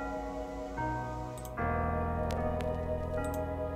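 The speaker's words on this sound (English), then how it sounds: "More vinyl sounds." Quiet tonal music with a handful of sharp vinyl crackle clicks and pops scattered across it.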